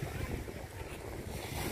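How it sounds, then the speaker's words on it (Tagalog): Ocean waves wash and surge at Gold Coast Beach, Tuen Mun, amid heavy wind buffeting the microphone, a loud continuous rushing with no voices. "Ay yung alon-alon oh. Alon siya."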